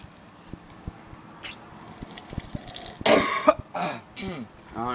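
A person coughs harshly a few times close by, after a stretch of quiet tapping and shuffling sounds.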